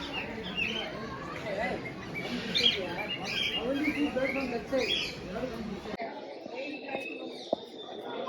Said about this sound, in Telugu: లవ్ బర్డ్ కదా.